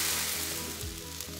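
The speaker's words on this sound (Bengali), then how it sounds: "এবার দিয়ে দেব গরম জল।" Hot water is poured into a pan of lightly toasted millet, bringing up a brief, fairly quiet hissing sizzle with steam over a low background hum.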